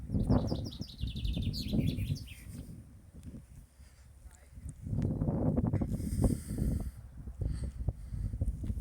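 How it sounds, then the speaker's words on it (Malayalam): Birds chirp in the trees at an old dairy farm in Latvia, with quick, bright twitters that are clearest at the start and return faintly later, under a person talking nearby. "കിളികളൊക്കെ സൗണ്ട് ഉണ്ടാക്കുന്നുണ്ട്."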